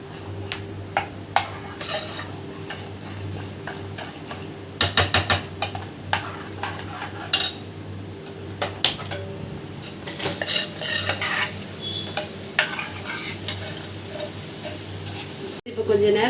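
A spoon stirs payasam in a pot on the stove, with repeated scraping and clinking against the metal over a steady low hum and occasional louder knocks.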